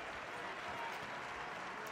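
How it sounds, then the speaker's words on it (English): Crowd applause at a fencing match at the Torino Grand Prix, heard as a steady, fairly faint wash of clapping from spectators in the venue, with no clear voices on top. "Generous round of applause from the crowd here."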